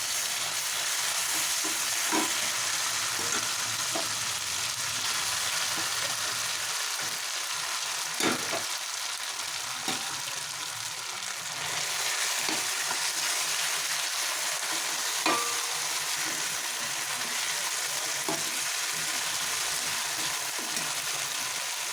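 Saag frying with onion, green chilli and tomato in a pan, a steady close hiss of sizzling with occasional scattered clinks and scrapes of a spoon, no talking.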